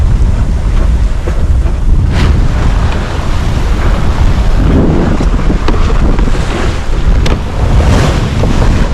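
Strong wind of about 12 knots, gusting to 13.5, roars across the microphone continuously, mixed with rushing water and hull splashes from a sailboat under way off Nova Scotia, loud and unbroken.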